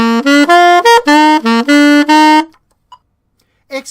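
Saxophone running a quick chromatic riff in swung quavers, a string of bright, loud, closely spaced notes for a couple of seconds, then near silence with a brief soft sound at the end.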